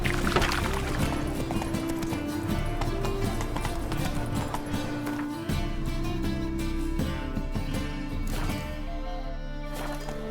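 Roach, a horse in The Witcher III, gallops in steady rhythmic clip-clop hoofbeats, close and loud, over continuous game music and ambience with no talk.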